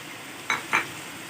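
Chicken frying with onions in a pot while being stirred, two short scraping clatters of a utensil against the pot over a faint steady sizzle.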